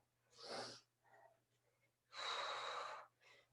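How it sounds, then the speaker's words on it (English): Heavy breathing during a thruster exercise: two strong, loud exhales roughly a second and a half apart, each followed by a softer breath, close to the microphone over a faint steady hum. "Fantastic, good strong breathing"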